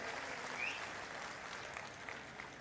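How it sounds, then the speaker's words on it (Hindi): Applause from an audience at a political campaign rally in Latur, Maharashtra, a steady, dense clapping that fills the whole stretch at moderate loudness with a faint crowd murmur beneath. "मैं चाहता हूं एक बार जोरदार ताली उनके लिए बजाएं."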